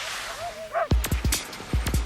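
Huskies at a sled dog farm in Finnish Lapland barking in a rapid run of sharp, loud, close barks, preceded by a few thin whines, with no talk.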